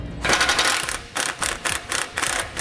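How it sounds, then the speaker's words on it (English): Rapid bursts of ratchet clicking from a 15mm socket loosening an exhaust pipe nut under a 2016 Nissan Altima, several quick strokes with short pauses between, close and fairly loud. "We're going to take a 15mm socket and we're going to loosen that nut up."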